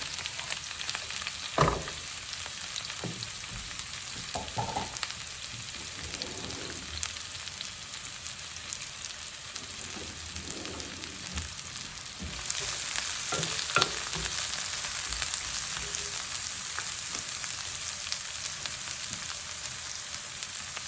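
Chopped mushrooms and onion sauté in olive oil in a pan for pan pizza sauce, giving a steady close sizzle throughout, with occasional scrapes and stirs of a utensil and a brief louder burst partway through.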